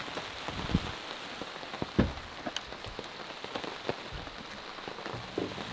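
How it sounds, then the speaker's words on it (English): Rain falls at a lakeside overnight truck campsite, a steady moderate patter of drops on surfaces with occasional louder taps, with no voices. "the rain's starting to come down a little harder"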